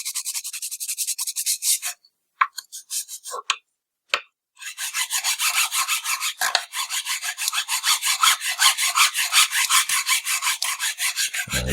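Hand file rasping across a vanilla paperboard perf board, close and loud, with a few scattered strokes and pauses at first, then a long run of steady rhythmic back-and-forth filing strokes, with no talk.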